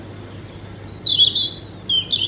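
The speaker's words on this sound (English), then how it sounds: "The bird sings loud." A bird sings loudly on a played recording, with high, thin whistled chirps and trills repeating in short phrases over a faint low hum and no talk.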